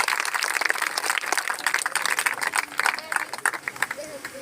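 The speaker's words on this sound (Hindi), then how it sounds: "तालियां कर दीजिए सबके लिए।" Audience applause at a gathering in Fatehabad about schoolgirls on hunger strike to get their school upgraded: dense, steady clapping from a crowd that holds throughout and thins slightly toward the end, with voices mixed in.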